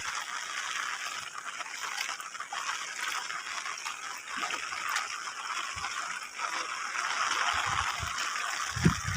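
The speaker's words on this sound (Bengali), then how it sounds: "বৃষ্টি হচ্ছে।" Heavy rain pours steadily over a village with rice paddy fields, a dense continuous hiss of falling water and runoff that stays loud throughout, with a few low thumps near the end.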